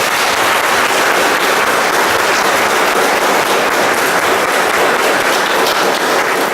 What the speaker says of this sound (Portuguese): com uma grande salva de palmas do bom dia